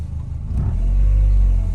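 A Honda Accord engine runs close by, a loud low rumble that swells as it revs up and then holds a steady, heavy idle-to-mid drone.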